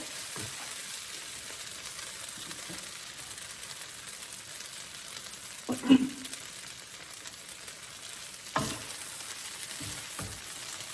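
Bok choy cooking in a hot pan, giving a soft, steady sizzle with a few louder stirring clatters and scrapes, heard close up.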